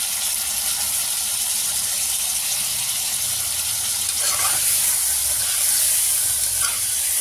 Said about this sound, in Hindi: कम से कम 1 से 2 मिनट तक तो हमारा गोश्त वो फ्राई हो जाएगा